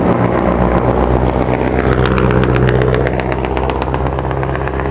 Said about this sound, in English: This is a tanker truck.